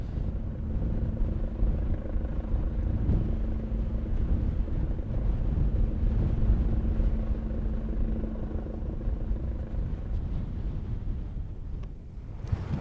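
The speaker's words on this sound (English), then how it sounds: "the mountain rescue helicopter appeared, and they were rescuing somebody" A mountain rescue helicopter flies over a wintry mountain summit, its steady, fairly distant droning hum running unbroken under light wind.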